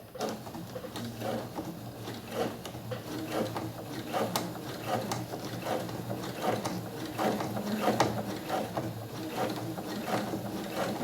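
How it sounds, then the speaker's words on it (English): A sewing machine stitches a jeans seam, running slowly with a rapid rhythmic mechanical clatter that continues steadily and close throughout. "just going slowly and letting the machine fold the fabric for me"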